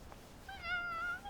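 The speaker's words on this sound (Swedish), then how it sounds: "Snälla våfflan, jaga inte katten Folke." A cartoon cat gives a single drawn-out meow, fairly soft and close, rising then falling over about a second, with no voices around it.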